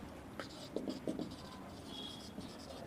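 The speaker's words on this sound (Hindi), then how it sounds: "तो इसकी डेफिनेशन लिखेंगे" A pen scratches out a definition by hand in a handful of short, quiet strokes, with a voice speaking softly in the background.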